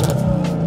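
A car revving hard at a car parade of supercars in Karachi, a loud, close engine roar holding a steady pitch through the short burst.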